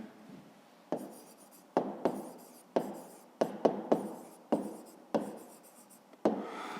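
A pen writes on paper close up in a string of short, scratchy strokes, each starting with a soft tap and separated by brief pauses, with no voices.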